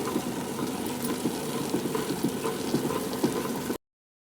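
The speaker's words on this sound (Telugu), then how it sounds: "ఇలా గ్రైండ్ చేసుకోవాలి." A wet grinder churns idli batter with added water, giving a steady whirring, sloshing drone close by that runs evenly and then stops abruptly.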